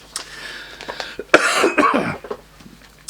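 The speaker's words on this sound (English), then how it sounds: "All this coughing, I'm like a walking version of Corona, aren't I?" Several harsh coughs in a cluster, one loud burst followed by a few rougher throat-clearing coughs, close to the listener with no talking.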